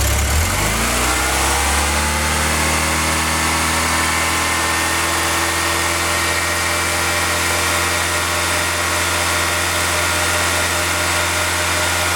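A Volkswagen Golf Mk2 engine with a refreshed engine bay starts up and then holds a steady, loud rev throughout, its low drone continuous and close with no talking.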